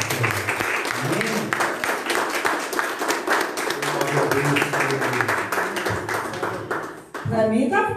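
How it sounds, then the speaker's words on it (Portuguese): A congregation at a Pentecostal church service breaks into lively applause, a dense rush of clapping that swells and fades, with a voice speaking over it and a brief drop near the end before sound resumes. "Aplauda o Senhor Jesus na vida da pastora."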